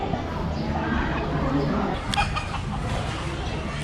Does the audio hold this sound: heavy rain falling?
no